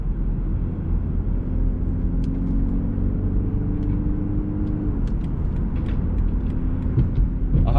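A 2022 BMW 330e plug-in hybrid accelerates hard with a ZF 8-speed gearbox. A steady, loud engine rumble carries a tone that climbs over several seconds, drops briefly as the gear changes, then builds again.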